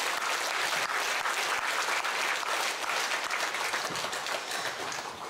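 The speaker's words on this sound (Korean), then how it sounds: "다시 한번 뜨겁게 박수합니다" A church congregation claps warmly for the choir and orchestra, many hands in a sustained, lively burst that stays strong for over five seconds before easing slightly at the end.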